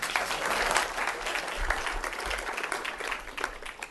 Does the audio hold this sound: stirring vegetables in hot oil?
no